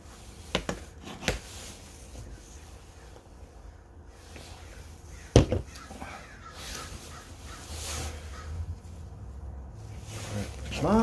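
A crow caws a few times outdoors, sharp harsh calls near the start and middle over a low background rumble, with brief faint sounds later.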